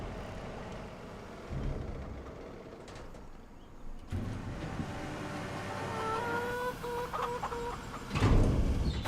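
Chickens at a coop in the Farming Simulator 25 video game clucking in short, scattered bursts, mixed with a low engine rumble and other farm background noise, with no talking.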